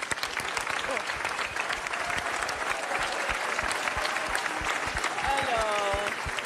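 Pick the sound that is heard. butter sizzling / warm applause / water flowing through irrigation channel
warm applause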